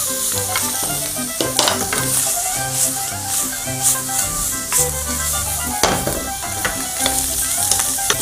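Spetsofai sausages sizzle steadily in a hot pan as they are stir-fried for the Greek dish, a constant close-up crackle with occasional stirring clatters and background music playing underneath.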